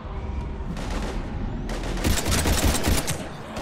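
Gunfire rattles through a Mass Effect 3 battle against Husks, dense bursts of rapid shots that grow louder and heavier in the second half, close and continuous.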